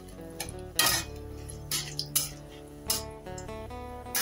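A dried chili, bay leaf and whole spices stirred in a pan, with a soft sizzle under scattered metallic clinks and scrapes of the spatula, close and quiet.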